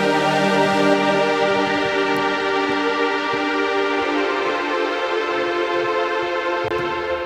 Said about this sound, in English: an arpeggio, very, very fast, with a lot of reverb.